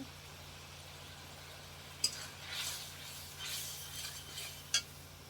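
Chilies in a little water being stirred in a cooking pot for a meat dish, with two faint, sharp metal clinks of the spoon against the pot over a soft, quiet bubbling.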